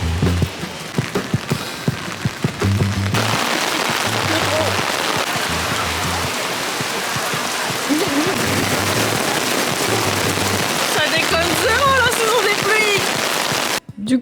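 Rain falls on a street in Seoul as a loud, dense hiss of drops spattering on surfaces, with steady low thumps in the first few seconds and a sharper patter near the end.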